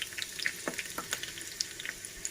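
Green chillies slow-frying in hot oil for a tadka, a soft steady sizzle with scattered small pops and crackles, close and fairly quiet, with no talk.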